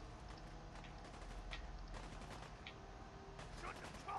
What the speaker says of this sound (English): I can't see these guys they're shooting now